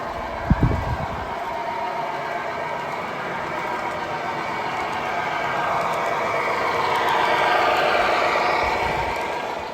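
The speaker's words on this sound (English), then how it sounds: "let's take a look at the train running by" An O gauge model train rumbles past with a steady whirring drone and rhythmic clicking of wheels, growing slightly louder toward the end.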